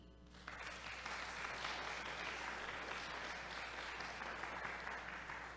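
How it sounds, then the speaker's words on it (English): A church congregation claps steadily throughout a worship service, a dense, sustained round of applause heard from a short distance. "let's give a big round of applause to our tech,"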